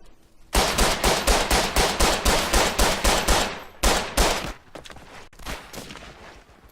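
Light machine gun in the World War I shooter Verdun firing rapid, loud sustained bursts: a long steady run of shots, a brief pause, then further bursts, all close and without talk.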